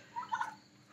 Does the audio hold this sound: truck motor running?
no